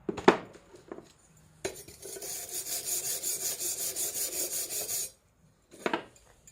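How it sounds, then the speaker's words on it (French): A GYS 160 P welder makes a spot weld: a steady crackling, sizzling arc runs for about three and a half seconds, framed by brief clicks and taps before and after. "je fais premier point de soudure"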